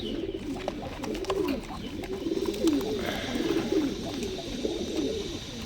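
Patta breed pigeons in a home breeding loft coo repeatedly in low, rolling phrases, several birds overlapping close by against a soft background hum.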